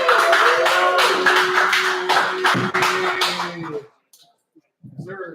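Open-mic comedy crowd clapping and cheering loudly for several seconds, then stopping abruptly into silence before a voice starts speaking.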